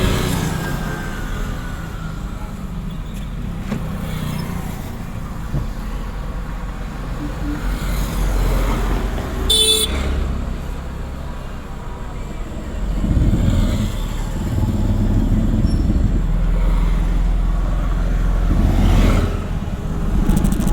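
A car started and driven during a driving school lesson gives a steady, low engine rumble throughout, swelling somewhat louder toward the end, with faint talk in the background.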